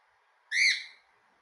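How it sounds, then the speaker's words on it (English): A pet cockatiel gives a single short, bright rising whistle that lasts about half a second, close and clear against near silence. "such a good bird"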